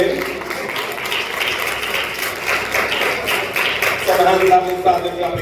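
An audience claps at an award ceremony for a national essay competition, a steady crowd of hands pattering continuously at moderate loudness, with a voice on a microphone speaking over it.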